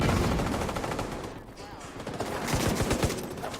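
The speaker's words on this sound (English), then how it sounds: "Guy's got an LMG." Light machine gun fire in The Division 2: rapid bursts of automatic shots crackling through a busy combat soundscape, sharper and louder toward the end, with a voice talking over it.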